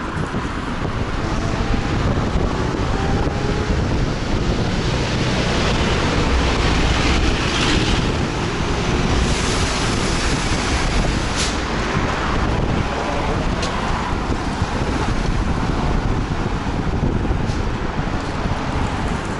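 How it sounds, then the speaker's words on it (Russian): Wind and rain outdoors on a cold May day at Russia's southernmost point, a steady loud rushing with buffeting gusts against the microphone and no break throughout. "Ветрено, холодно, идет дождь."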